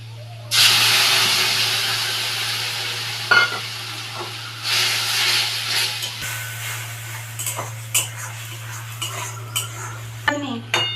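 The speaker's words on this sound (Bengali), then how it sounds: "পেঁয়াজ ভাজা হয়ে গেছে এবার আমি মশলাটা দিয়ে দিব" A paste of green chilli, cumin and garlic hits frying onions with a sudden loud sizzle that settles into softer hissing, while a metal utensil stirs and clinks repeatedly against the pan.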